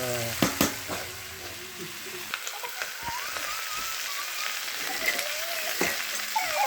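Chopped onions sizzle steadily as they hit hot oil in a pan already holding ginger and garlic for a broiler chicken curry, with a few sharp clinks of a spoon against the pan over the continuous frying hiss.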